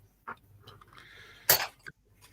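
A short burst of flu coughing, one harsh loud cough with a couple of smaller throaty sounds around it, close and without talk.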